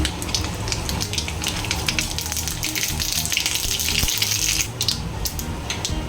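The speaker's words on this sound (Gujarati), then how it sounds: "राई फूटे એટલે जीरु लई लेवानुं छे।" Mustard seeds crackle and pop in hot oil, a dense, loud, continuous sputtering close at hand with a short dip near the end, no talking.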